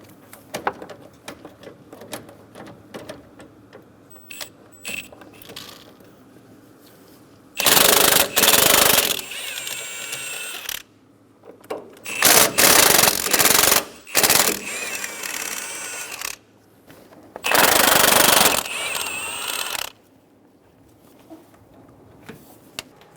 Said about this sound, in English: Using an 18mm socket, remove the nuts.